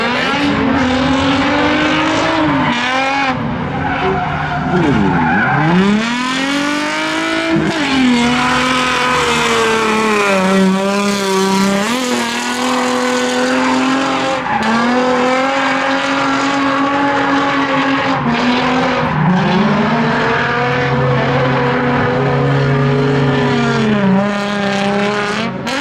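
Infiniti G35 drifting at a drift event, a loud sustained engine roaring and bouncing off the limiter while tires squeal in long wavering wails and a burnout builds, steady and close for the whole stretch.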